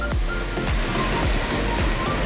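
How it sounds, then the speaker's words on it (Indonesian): Steady broadband roar of the Kedung Kayang waterfall in Magelang, a continuous loud rush of falling water with a few low thumps, no voices. "Udah nyampe, ini air terjunnya."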